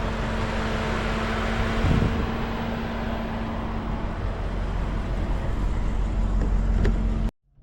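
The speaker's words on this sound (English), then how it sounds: "Engine's running, just so you know." A BMW car engine idles steadily with a constant low hum and a faint tonal whine, nearby and unchanging, before cutting off abruptly at the end.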